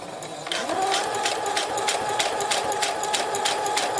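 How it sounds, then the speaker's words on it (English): A sewing machine runs steadily, stitching slowly along the seam of a swimsuit top, with a continuous rapid needle rhythm close by and no talking. "I'm just going to go ahead and sew as close as I can to that seam allowance"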